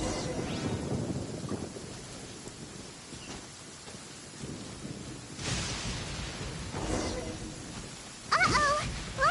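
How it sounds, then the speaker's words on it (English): A lightning storm in the video game Genshin Impact rumbles with rolling thunder and falling rain, low crackling booms building in bursts at moderate loudness beneath faint game effects. "Lightning storm!"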